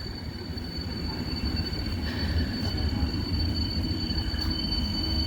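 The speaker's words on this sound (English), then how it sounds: "We are lucky to have another long distance train arriving." A long-distance passenger train rumbles steadily into Tłuszcz station in Poland at moderate distance, wheels rolling on rails with a faint high squeal, no voices.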